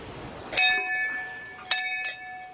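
Metal temple bell at a Shiva temple during a busy Sawan Monday visit, struck twice with sharp bright rings about a second apart, each leaving a long sustained ringing tone over quiet background.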